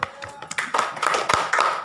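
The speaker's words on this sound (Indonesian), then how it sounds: "Jadi tepukan" Students clapping in a classroom, a short sequence of sharp, uneven claps close by, becoming denser toward the end.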